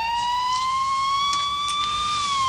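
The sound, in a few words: siren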